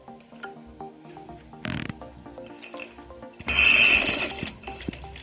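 A sewing machine runs in short bursts and then a longer steady run, stitching the seam of a cuff sleeve, its rapid mechanical chatter close and fairly loud.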